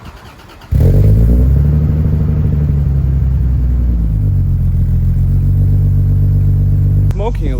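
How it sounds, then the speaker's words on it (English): A car engine cranks and catches abruptly, then runs at a loud, steady rumbling idle close by, with a slight dip before cutting off near the end. "I'm just going to turn the car on, make sure it works."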